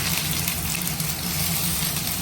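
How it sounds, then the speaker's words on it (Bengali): Onions added to hot oil for a home-style curry give a steady, loud, close sizzle with a fine hiss throughout, short and without any voice. "এবার দিয়ে দেবো পেঁয়াজ"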